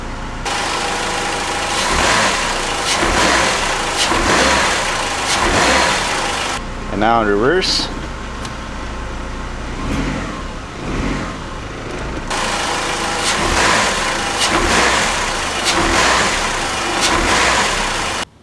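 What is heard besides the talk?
car engine running in drive and reverse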